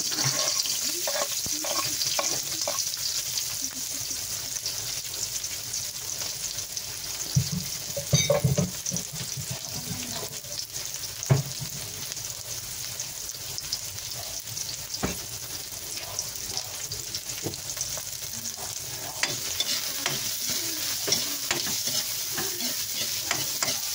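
Onion and garlic sautéing in cooking oil in a pan for a broccoli and cauliflower gisado, a constant close sizzle with repeated spatula scrapes and clatters, no talking heard.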